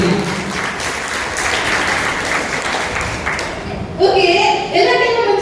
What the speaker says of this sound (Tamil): அவங்க ஒரு மிகப்பெரிய கைத்தட்டல் கொடுக்குறாங்க.